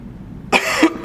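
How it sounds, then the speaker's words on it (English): A person coughs to the side to clear secretions, two short, forceful coughs close by after a brief quiet start. "expulse the secretion by rounding your shoulders forward and coughing to the side"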